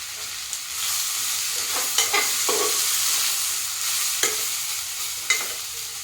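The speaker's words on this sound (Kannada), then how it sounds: "ಇನ್ನೊಂದು ಚಮಚ ತುಪ್ಪ ಹಾಕೋತೀನಿ. ಓಕೆ, ಇವಾಗ ಫ್ರೈ ಆಗಬೇಕು." Ghee rice frying in ghee while being stirred, a steady close sizzle broken by several sharp scraping clicks of a spoon against the pan, with no talking.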